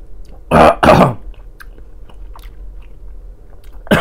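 Two loud, harsh coughs close together near the start from someone eating sausage and rahat lukum, then quiet rustling, with another cough beginning right at the end.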